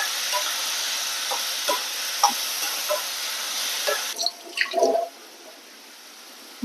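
Chopped bottle gourd (churakka) hitting a hot pan with curry leaves for thoran, a bright continuous sizzle with scraping stir strokes and a few clattering spoon knocks, close up, then the frying settles quieter.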